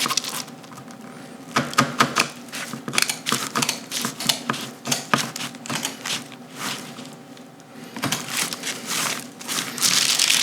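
Scissors or a blade cut through material for a custom Knicks-themed Jordan 4 sneaker, a series of close, crisp snipping clicks in irregular bursts with a brief pause midway, no talk.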